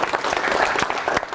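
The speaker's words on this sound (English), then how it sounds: "let's give Matthew a round of applause" A brief burst of audience applause at a college event, with dense clapping from a crowd, fairly loud and close, lasting just over a second.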